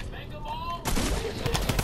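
Rapid gunfire in a video game erupts after a quiet moment, a dense loud burst of shots with sharp repeated cracks, close and continuous, with faint game sounds before it.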